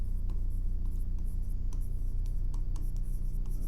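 A pen scratches quickly across paper as a maths answer is written out, a series of short, faint strokes in an irregular rhythm over a low steady background hum.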